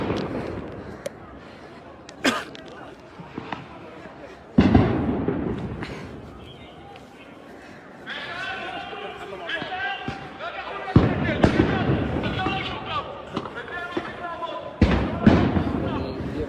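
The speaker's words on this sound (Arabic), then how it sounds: "قوات الاحتلال اعتلت ساحات قبة الصخرة وتطلق الآن قنابل الصوت والغاز على الشبان" Stun grenades and gas canisters fired by occupation forces in the courtyards of the Dome of the Rock, heard as several sharp loud bangs and thuds spread across a noisy crowd scene with shouting voices throughout.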